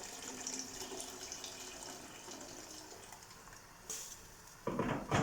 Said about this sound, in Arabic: هنا عندي اني مي مغلي راح اضيفه بهالشكل هذا